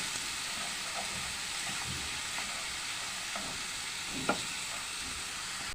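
Freekeh sautés with colored peppers in a pan, giving a steady hiss of sizzling with faint scraping strokes and one brief clink of the stirring spoon near the end.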